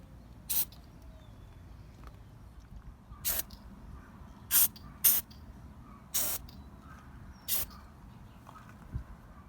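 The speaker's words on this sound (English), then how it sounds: "So I'll go ahead and spray that on the terminals" Short hissing bursts of battery terminal protection spray applied to wet cell battery terminals, about seven separate puffs of varying length spread over a quiet background.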